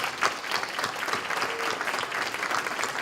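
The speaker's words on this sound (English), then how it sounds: "I'd like to just give him a round of applause." A banquet audience claps steadily for about three seconds, a dense patter of many hands at moderate volume with no voices over it.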